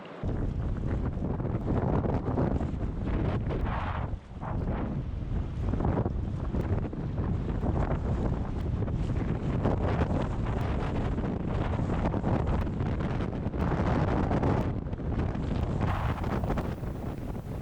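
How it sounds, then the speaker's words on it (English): Strong wind buffets the microphone continuously on the Middle Fork Salmon River in Idaho, a loud roaring rush with gusts, river water faintly beneath it. "it was so windy that you had to paddle the air currents as much as the water"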